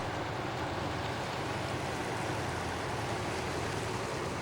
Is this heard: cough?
no